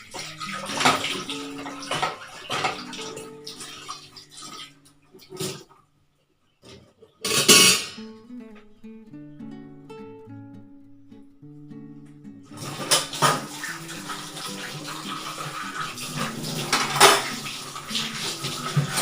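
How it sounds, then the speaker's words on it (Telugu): Dishes and pots washed in a full kitchen sink: running water, clattering pans and clinking cutlery in bursts, with a short quiet pause partway through. "గిన్నెలు కడిగేసుకోవడం మాత్రం అయిపోయింది."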